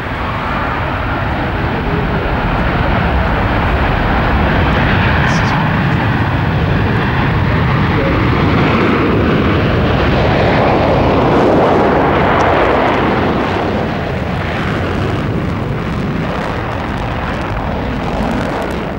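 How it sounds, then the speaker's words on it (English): A Tupolev Tu-22 Backfire nuclear bomber with swing wings taking off at the Farnborough air show in 1992: a loud, sustained jet roar that swells and rumbles for the whole stretch, with no voices. "the first time this aircraft has ever been seen and heard taking off in the West. It's called Backfire by NATO, but the Kremlin calls it the Tupolev Tu-22"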